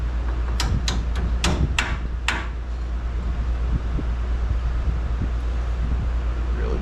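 Metal knocks from removing a bolt while lowering a 1992 Toyota: about six sharp, close strikes in quick succession over the first two seconds, then only steady wind-like noise and a low hum.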